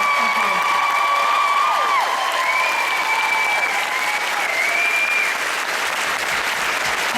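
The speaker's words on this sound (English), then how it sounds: "let's give them a hand for being here" Convention panel audience applauding loudly and continuously, a dense crowd roar of clapping with scattered whoops and cheers throughout.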